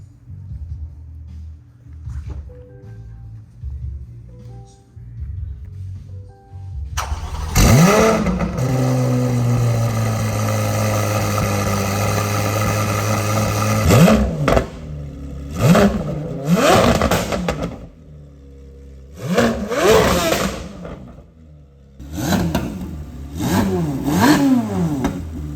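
A 2024 Chevrolet Corvette C8 Z06 fitted with test pipes cranks and fires up, then settles into a loud idle broken by several sharp revs and blips, each rising and falling quickly.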